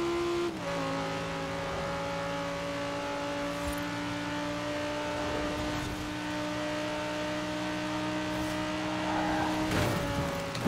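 Sports cars racing flat out along a highway in the Forza Horizon 4 video game, with a Lamborghini Huracan and a Nissan GT-R, give a steady loud engine drone with harmonic whine and brief shifts in pitch.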